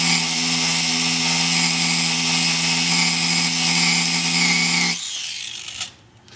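A high-pitched power sander whines steadily at close range, then cuts out and spins down near the end.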